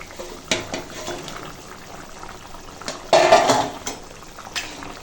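Fried rohu fish goes into a pot of boiling curry with ridge gourd and potato, bringing close metallic clatter from utensils and the pot, then a louder burst of bubbling and sizzling over a steady simmer.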